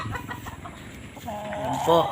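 Fighting roosters kept for sale on a farm cluck in a steady, close chatter, ending with a louder drawn-out call. Faint voices may sit beneath the birds.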